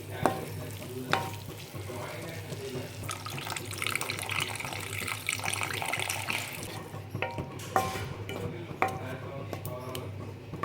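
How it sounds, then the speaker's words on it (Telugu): Prawns frying in a pan, cooked coastal style with chilli, turmeric and salt, sizzle steadily while water is added, with clatter of the pan and a splash midway before the frying settles to a quieter hiss. "కొద్దిగా వాటర్ వేసి మూత పెట్టేసేయాలి"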